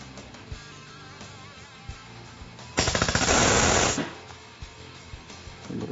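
MIG welder running a short, high-heat weld on exhaust tubing: one loud dense crackling burst lasting about a second, set against quieter shop background with faint clicks before and after.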